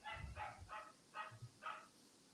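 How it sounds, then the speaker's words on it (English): A dog barks five times in short, yappy bursts, faint and somewhat distant, with no other sound around it. "Barking dog."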